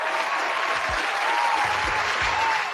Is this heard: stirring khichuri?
no